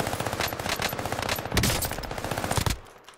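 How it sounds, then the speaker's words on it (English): An Armaguerra gun fires in a video game in a sustained rapid automatic burst of close, loud shots for nearly three seconds, then stops abruptly, with no talking over it. "I love this gun"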